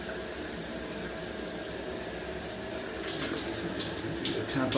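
Water running steadily from a bathroom tap during a home plumbing inspection, a continuous broadband rush that holds even throughout, with faint clinks and a slight rise near the end.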